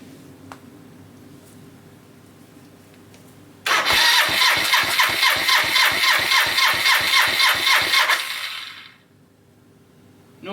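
A Suzuki GN250 motorcycle engine cranks over with the choke on and catches, firing in a rapid regular chug for about five seconds before dying away, close and loud with no talk over it.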